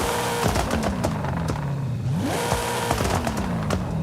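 A Dodge Dart drag build with anti-lag in Forza Horizon 5 revs, climbing and falling with rapid popping and crackling exhaust bursts, loud and continuous with no voices.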